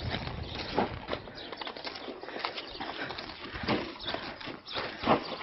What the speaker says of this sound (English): Do all the horses like to play with the soccer ball?